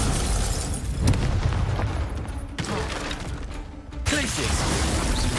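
Confringo explosion spells fired in the video game Hogwarts Legacy: sharp booming blasts burst out at about one, two and a half and four seconds over a busy background of game action.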